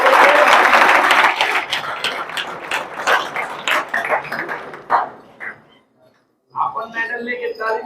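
Applause from the audience at a 2024 school prize and award ceremony as a medal winner is honoured, dense and loud clapping for about five seconds that thins into scattered claps, stops briefly, then resumes.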